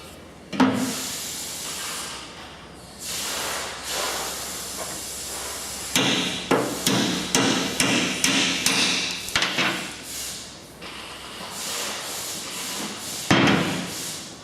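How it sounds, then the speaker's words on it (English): Repeated sharp hammer blows drive a new bushing against the old one to push it out of a cast machine housing on a Norfield Rev Series Magnum butt router, struck in quick bursts with short pauses and a final hit. "We'll use the new brushing to drive out the old bushing."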